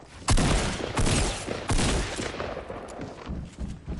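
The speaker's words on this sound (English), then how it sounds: "They're popping grenades off." Grenades exploding in a Fortnite match: a few loud, heavy booming blasts hit at uneven intervals, each trailing off into a noisy rumble before the next one lands.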